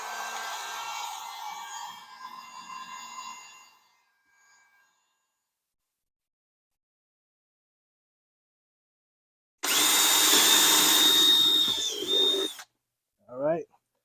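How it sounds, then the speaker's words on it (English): A drill bores through a heated plastic rice or dog food container: a loud, close whirring burst of about three seconds, preceded by a fading hum and followed by a brief squeak. "and that went through pretty easy with the heat"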